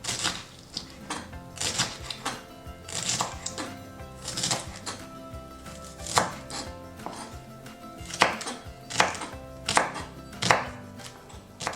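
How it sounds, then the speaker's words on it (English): A knife slicing shallot on a cutting board: rapid, crisp chops in short rhythmic bursts with brief pauses between runs, close and fairly loud with no talk. "Now let's cut the shallot into slices."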